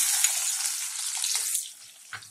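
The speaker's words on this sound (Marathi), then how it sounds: "तेल छान गरम झालेलं आहे, त्याच्यामध्ये आपण कांदा परतवून घेऊया" Onion hits about two spoonfuls of hot oil in a kadhai for chhole masala, and a loud, close, hissing sizzle rises, holds for over a second, then fades to a softer crackle with a small clink near the end.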